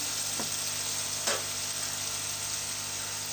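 Whole spices frying in hot oil in a pot for chicken biryani, a constant close sizzle with a couple of soft clinks as biryani masala goes in, no talking.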